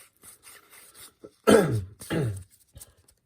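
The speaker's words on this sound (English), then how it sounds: "Excuse my cough, I've got a little bit of a cold." Two harsh coughs from someone with a cold ring out close and loud in the middle, surrounded by quieter throat noises and soft rustling.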